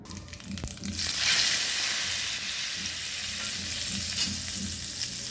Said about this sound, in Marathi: जिरं मुरी आणि हिंग ह्याची फोडणी मी दिली आहे ह्याला